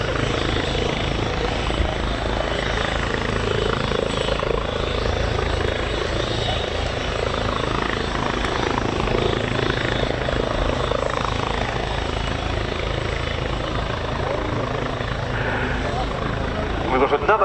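An Airbus H145 Juno training helicopter hovers and maneuvers at an RAF air show, its steady rotor thrum and turbine whine loud and continuous, with a voice talking over it.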